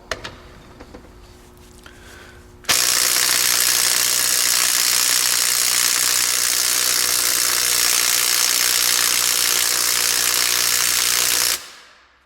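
DeWalt 12V 3/8-inch electric impact wrench working on Honda cylinder head bolts: after a few quiet clicks and shuffles, a loud continuous hammering buzz runs for about nine seconds, then cuts off abruptly.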